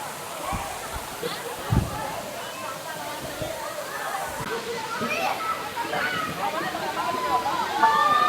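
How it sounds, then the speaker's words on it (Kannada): Ermayi Falls, hidden in dense forest, sends a steady broad rush of falling water under frequent nearby talk and occasional louder splashes. "ಫಾಲ್ಸು ಇನ್ನೂ ಜೋರಾಗಿ ಬರ್ತಿರುತ್ತೆ ನೀರು."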